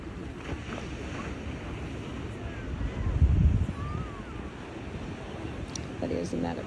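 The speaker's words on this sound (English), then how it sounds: "There's some waves for you." Ocean waves breaking at Sunset Overlook in San Diego, a steady broadband wash of surf with a louder swell midway, roughed by wind noise on the microphone.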